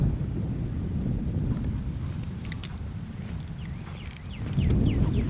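Wind buffets steadily across a golf course, a low rumbling rush with slight gusts and faint higher chirps in the background.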